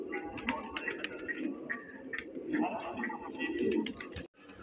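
Racing pigeons cooing and fluttering in a loft, several birds overlapping in a steady, busy murmur of coos that runs close and fairly loud before cutting off abruptly near the end.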